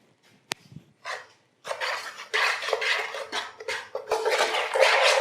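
Flour and two eggs mixed in a bowl for a Lahori chargha roast batter, heard as scraping, clinking strokes of utensil against the bowl, fairly close and steady, after a brief sharp knock at the start.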